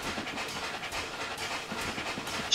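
Rhythmic chuffing of an A4 steam locomotive, 4464 Bittern, in Train Simulator 2020 hisses past in quick, regular bursts, fairly close and steady.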